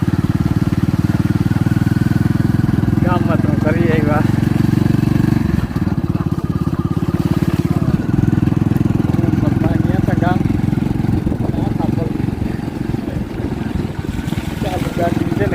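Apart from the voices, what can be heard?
running motorbike engine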